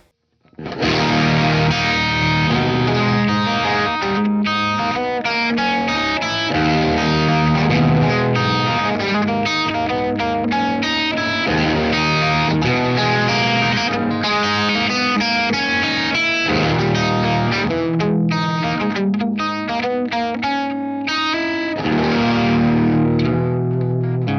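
Distorted electric guitar through a CGT Free Man Satch amp profile on a ToneX unit, playing a continuous loud, dense riff with crunchy crisp highs and no buzz, steady for the whole stretch without any voice.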